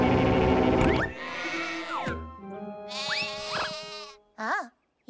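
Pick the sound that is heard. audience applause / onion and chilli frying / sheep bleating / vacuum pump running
sheep bleating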